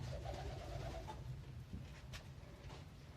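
Kolomna pigeons cooing softly in a loft, low murmuring coos repeating under a steady background hum, fairly faint.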